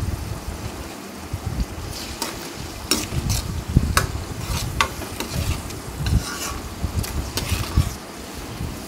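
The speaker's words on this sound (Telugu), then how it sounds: "చూసారు కదండి, చక్కగా ఫ్రై అవుతుంది కదా" Chopped onion with turmeric and salt frying in a pan, a steady sizzle broken by repeated scraping and clicking strokes of a spoon stirring, close up with no talk.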